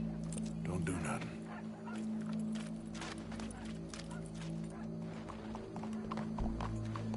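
Horse hooves clop steadily beneath a busy mix of chatter and background game noise, with a faint whinny mixed in, from Red Dead Redemption 2.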